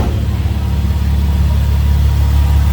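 A naturally aspirated VR6 car engine idles steadily, a loud, close, low rumble that holds an even note throughout with no voices.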